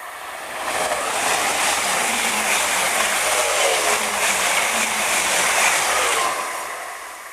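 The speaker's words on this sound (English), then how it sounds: "Oh, hold on, train coming." A train passes near a garden plot, a broad steady rumble and roar that swells in and holds for several seconds before fading, with no voices.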